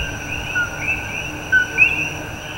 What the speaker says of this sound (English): What you hear now are the Coquis in the background.